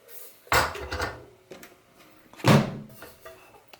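A bread pan being pulled out of an Oster bread machine with a squeaking fault, giving two sharp clunks of metal and plastic about two seconds apart amid lighter rattles.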